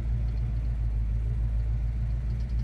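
A 1968 Dodge Super Bee sits idling, its engine giving a deep, steady, loud rumble with an even low throb throughout and no voices over it.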